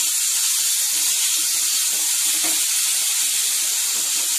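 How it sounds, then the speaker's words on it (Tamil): Tomatoes sautéing in a pan for a sankara fish curry, a constant bright hissing sizzle with faint clicks beneath, close and even from start to finish. "தக்காளி நல்லா வதங்கட்டும்."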